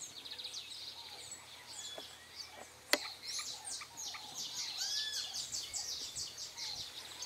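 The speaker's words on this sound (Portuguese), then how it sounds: "Eis aqui o ninho dos pássaros que eu acabei de falar." Small birds chirp and tweet near their nest in a leafy garden corner, with quick bright calls and short trills scattered throughout and one sharp nearby click midway, over a quiet background.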